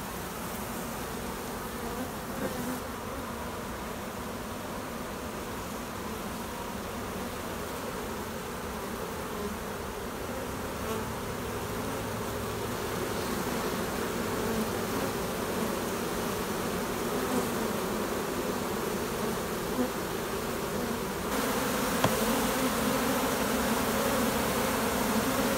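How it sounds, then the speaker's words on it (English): Honey bees buzzing steadily inside a queen-rearing cell starter hive, a dense continuous drone of many insects close up that grows slightly louder toward the end, with no talking. "Let's see if they're happy to see their potential queen bees."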